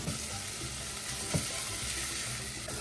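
Chopped onions sizzle steadily in a hot frying pan in a home kitchen, a continuous even hiss with a faint clink near the middle.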